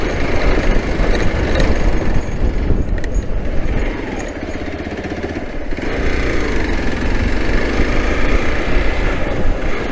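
A Hero Xpulse 200 BS6 rally motorcycle rides along on a test run, its engine droning continuously with wind rush, loud and close throughout.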